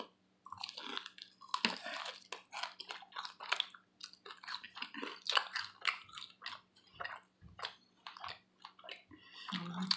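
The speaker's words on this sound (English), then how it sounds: "Let's just start eating their buffalo wings" Someone eats hot buffalo wings with ghost pepper, making close, quiet, irregular wet chewing and crunching bites with moist smacks and pauses between them.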